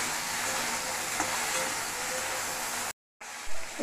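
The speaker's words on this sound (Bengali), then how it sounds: "ঢ্যাঁড়সগুলোতে আমি এখানে নুন দিয়ে ভালো করে ভেজে নিচ্ছি" Okra fries in white oil with salt and turmeric, a continuous even sizzle and hiss close by with faint stirring, cut by a brief dropout near the end.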